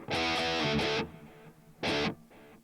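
Distorted electric guitar chords through a Boss Katana MK2 amp ring out in bursts, with delay and feedback repeats trailing off between strums and a faint sustained tail.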